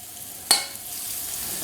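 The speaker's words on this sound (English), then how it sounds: "let's start off by frying our pork" Steady frying sizzle with a sharp crackle as thinly sliced pork hits hot oil over a medium-high flame, then a continuous hiss that stays loud and close.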